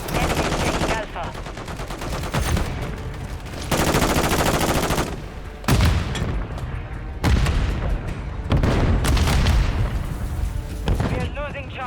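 Modern Warfare 3 multiplayer gunfire rattles in heavy automatic bursts with a grenade explosion booming among them, loud and close, while radio-style game voice callouts come through between the shots.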